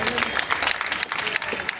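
Audience applause at a Hindi poetry gathering, a dense continuous patter of many hands clapping close and loud throughout, with a voice or two mixed in.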